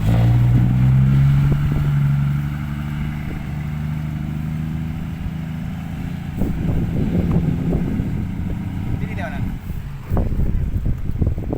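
Heavy tractor engines, two of them stuck in mud, rumble and chug at close range with uneven revving, accompanied by wind buffeting and a steady low drone.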